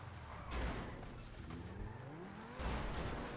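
A car in GTA V drives at speed with a loud, continuous engine roar whose pitch sweeps up and down, alone with no speech.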